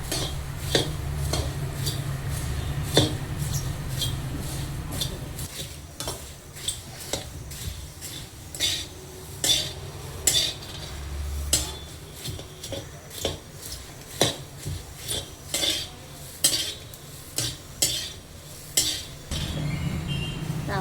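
A metal utensil scrapes and clinks steadily against a hot pan as puffed rice is dry-roasted over medium flame, stirred and tossed, with a low background hum and no voices.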